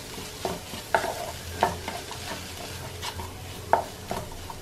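Spiced lentils frying in a pan and stirred with a spatula, a soft sizzle under repeated clicking scrapes that come at an uneven rhythm, close and without voices.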